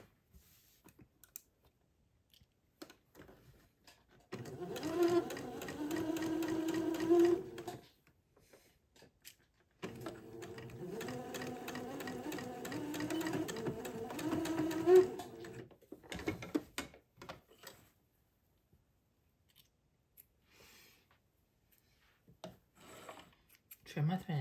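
Sewing machine stitching a 1/8 inch seam across entredeau on heirloom fabric, running in two steady bursts of several seconds each with quiet pauses and small clicks between.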